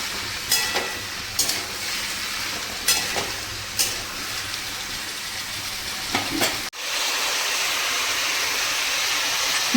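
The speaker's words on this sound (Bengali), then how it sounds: "আলু আর পেঁপেটাকে ভালো করে ভেজে নেব।" Potato and papaya pieces fry in a pan with salt and turmeric, giving a steady broadband sizzle punctuated by several scraping stirs, the frying growing into an even hiss toward the end.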